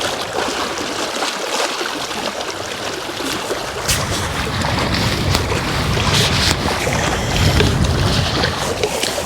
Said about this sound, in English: So the wind's coming and going. It's picking up just now.